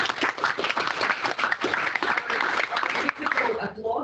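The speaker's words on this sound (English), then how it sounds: "Applause to you." Applause from a conference audience after a presentation, a dense steady patter of many hands filling the room, close and fairly loud, with scattered voices mixed in and tapering off near the end.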